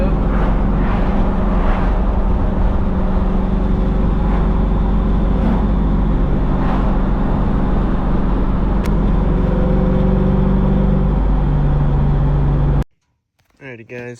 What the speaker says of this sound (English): LS car driving back from the meet